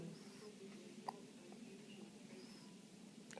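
A baby's small hiccups, a few brief soft catches spaced a second or more apart, faint and close against a quiet indoor background.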